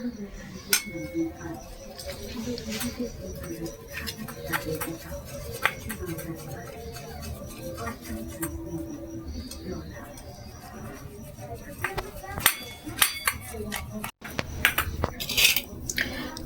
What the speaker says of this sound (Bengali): ডিম দুটো আমি গ্রেট করে নেবো